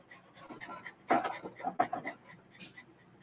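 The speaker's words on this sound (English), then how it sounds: "I can put this dog down if we're getting too much panting." A dog pants in short, quick breaths close by, with a few faint whimpers mixed in.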